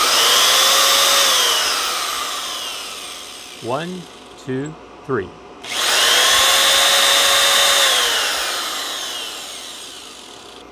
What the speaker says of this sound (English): the drill will be very loud